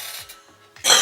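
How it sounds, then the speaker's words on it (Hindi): After a near-silent moment with faint rustling, one sharp, loud cough bursts out close to the microphone at the very end. "एक मिनट खांस लूं।"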